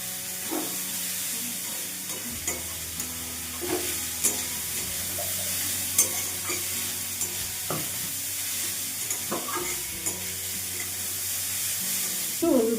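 Vegetables with peas, salt and turmeric frying in a pan while being stirred, a steady close sizzle with intermittent scraping stirs and faint background hum.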